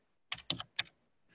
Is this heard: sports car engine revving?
no